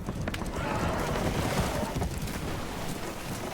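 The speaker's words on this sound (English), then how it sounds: "The horses are confused." Spooked horses in Red Dead Redemption 2 aboard a damaged, leaking boat, heard as a steady, noisy wash of stamping hooves and agitated movement, fairly loud and unbroken throughout.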